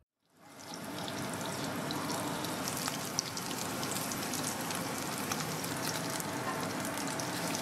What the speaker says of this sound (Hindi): अब उसी कढ़ाई में हम पनीर को हल्का फ्राई कर लेंगे करीबन दो से तीन मिनट